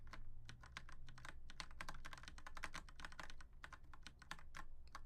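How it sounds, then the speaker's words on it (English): Rapid, dense typing on a computer keyboard, a close run of crisp clicking keystrokes with brief pauses, alone with a faint low hum beneath. "Sorry, my keyboard."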